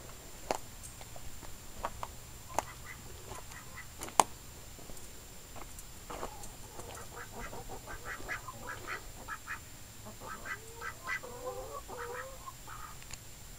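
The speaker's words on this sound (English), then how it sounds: "And for some reason, the chickens follow the duck." A duck quacks among clucking chickens in a backyard hen house setting, a scattered series of short calls and sharp clucks over a steady low hum, with occasional louder pecks or knocks.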